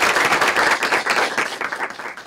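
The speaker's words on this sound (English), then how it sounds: "Let's give Eric a round of applause." Audience applause at a student workshop, a dense wash of many hands clapping steadily and fairly loud for a couple of seconds, tapering slightly toward the end.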